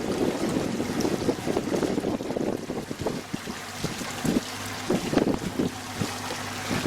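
A 2013 SeaFox 226 Pro Series center console boat motors along at a steady, quiet hum, with wind buffeting the microphone and water rushing past the hull throughout.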